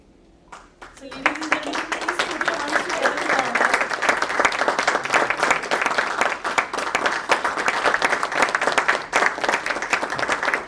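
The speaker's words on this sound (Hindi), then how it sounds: "हम आपसे गुजारिश करते हैं कि आप इन्हें जोरदार तालियों के साथ" After a brief voice at the start, loud audience applause at a Hindi poetry recital swells and continues steadily for several seconds, dense and even throughout.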